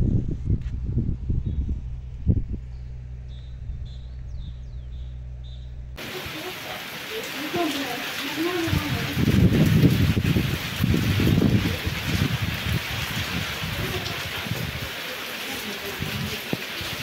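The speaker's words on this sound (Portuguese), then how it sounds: "Olha a chuva, Luca." Rain falls in the countryside of Juazeiro, Bahia. A low rumbling background gives way abruptly to a broad, steady hiss of rain that carries on to the end, with no clear speech.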